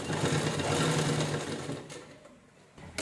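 A sewing machine runs press stitching on a purse, a steady rapid mechanical whir for about two seconds that then slows and stops, with a brief restart at the end.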